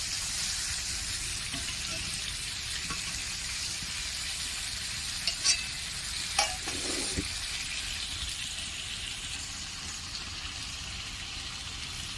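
Mutton pieces for a thin potato mutton curry sizzle and fry steadily in a pan, a continuous hiss with a few brief scraping knocks of a spatula near the middle.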